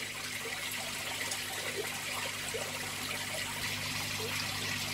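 Homemade aquarium filter in a betta fry tank, a soft continuous trickle of water with a faint low hum underneath, steady and close, no voices.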